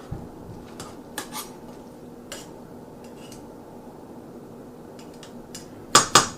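Smoked chicken drumlets knock into a pot of collard greens, a few sharp clanks of metal and meat against the pot near the end after a quiet stretch with faint scattered clinks.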